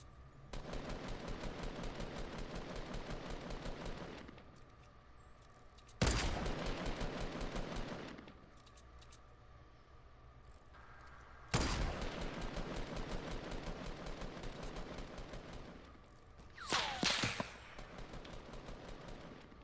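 Automatic weapon fire in the video game Fortnite rattles in long, dense bursts, several sustained volleys of rapid shots separated by short lulls and ending in a sharper burst, loud and continuous with no talk.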